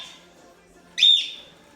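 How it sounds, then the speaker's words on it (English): A pet bird lets out a single bright, whistled chirp lasting about a quarter second, standing out clearly over a quiet indoor background. "That's our bird."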